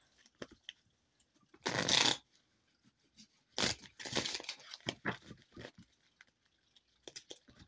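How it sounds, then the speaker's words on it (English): A tarot card deck is shuffled at close range in a quiet room: two or three short, bright bursts of riffling and sliding cards separated by silence, with small scattered handling clicks between them. "This deck shuffles so nicely"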